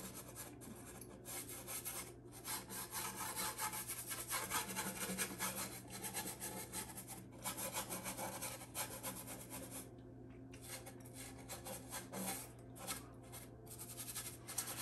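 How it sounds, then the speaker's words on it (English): Continuous scratchy scrubbing of a brush pushing thinned oil paint onto canvas along a horizon, soft repeated strokes with small pauses, close and steady with a low background hum. "I'm gonna scrub that on down along the horizon."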